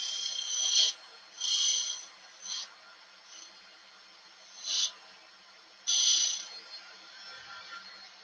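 Intermittent bursts of scraping from a wood and resin blank turning on a lathe, several rasping strokes a couple of seconds apart with quiet gaps between, close and moderately loud.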